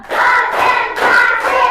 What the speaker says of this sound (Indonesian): Sekarang tepuk 1 sampai 5 ya.